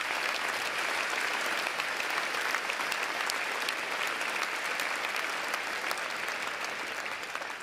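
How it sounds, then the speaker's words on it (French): Sustained applause from a crowd at a graduation ceremony at HEP Vaud, a dense, even wash of many hands clapping throughout, heard from a distance at moderate level and tapering only slightly at the end. "on peut les applaudir très très fort"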